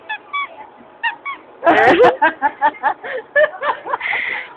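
A duck quacking and honking in a rapid series of loud, close calls, some clustered together and one long nasal call at the end, with no clear talking.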